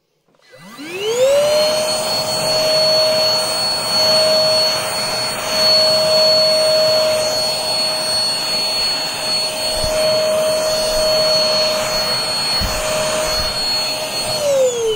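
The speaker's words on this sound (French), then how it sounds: "L'aspirateur a été efficace." A vacuum cleaner fitted with a keyboard attachment cleans a computer keyboard; its motor spins up quickly into a loud, steady, high-pitched whining drone that holds unchanged, with a few faint knocks.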